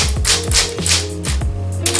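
A typewriter being typed on after years of disuse gives a series of sharp, close mechanical keystrokes, about seven clacks in two seconds, in an uneven, quick rhythm.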